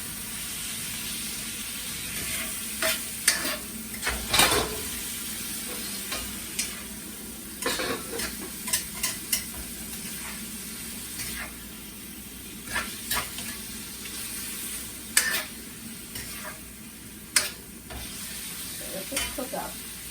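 Chicken stir-fried for Thai basil chicken as fish sauce goes in, a constant hissing sizzle punctuated by repeated clanks and scrapes of a spatula against the pan, close and busy throughout.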